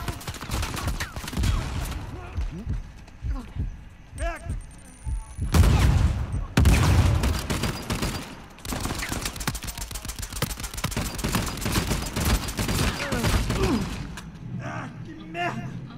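Gunfire crackles through a shooting video game, with bursts of rapid automatic shots and sharper single reports that come and go, loud at times, alongside someone talking.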